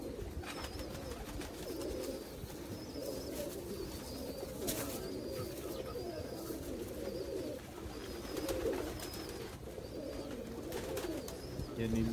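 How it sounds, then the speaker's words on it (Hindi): A flock of sturdy pigeons, including a neel-type breed, coos continuously in low, overlapping, rolling calls against a constant background. "ये बड़ी मजबूत आंखों के और बड़े मजबूत कबूतर हैं।"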